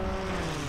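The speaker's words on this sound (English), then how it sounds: "Strafing run inbound." An aircraft strafing run in a video game: a brief, steady, droning engine rumble with a propeller-like hum, heard alone for well under a second.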